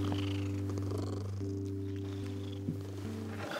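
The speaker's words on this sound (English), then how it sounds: "Listen, she's purring." A cat purring steadily and close by, a soft continuous rumble with no voices.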